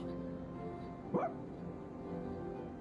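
Koro-chan, the dog in Persona 3 Reload, lets out one short, soft bark over quiet game background music.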